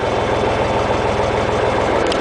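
A steady engine drives a gear-driven shaft that turns a plow. It runs at an even, rumbling idle-like rhythm, close and constant, with no voices.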